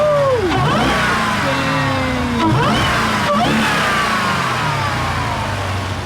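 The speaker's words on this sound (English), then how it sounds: "you can hear the supercharger a little bit" The supercharged engine of a 2018 Jeep Trackhawk revs up and falls back through several sweeping pulls, with a faint supercharger whine riding over a loud, close exhaust note and no talk.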